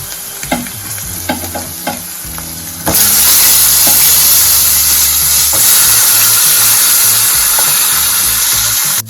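Moringa drumsticks with ginger-garlic-chili paste hit hot oil for a Kathiyawadi curry: a few spoon scrapes and taps, then a sudden loud, steady sizzle that hisses close up for the rest of the time, with occasional stirring knocks.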